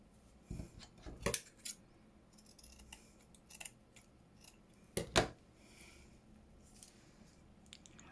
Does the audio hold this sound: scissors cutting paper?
yes